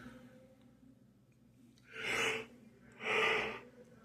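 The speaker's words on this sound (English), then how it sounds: "that yawn was fighting me" A person's long, drawn-out yawn comes in two breathy, rising heaves, close and fairly loud, over a quiet room with faint background hum.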